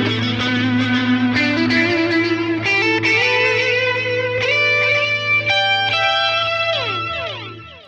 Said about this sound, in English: So I'm adding in this modulated chorus echo, and we'll hear what that sounds like by itself.